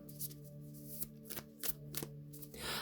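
A deck of tarot cards being shuffled by hand gives faint, quick papery riffles and soft taps in short irregular bursts over a low steady hum.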